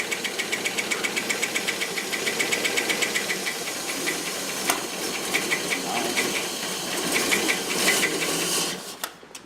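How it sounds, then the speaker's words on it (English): A Rolls-Royce Silver Cloud engine running too rich, with a fast, even mechanical tapping that quickens as the throttle opens, layered over hissing engine noise and ending with a brief clatter. "Hear that tapping? See how it speeds up when I open it up? So it's still a little too rich."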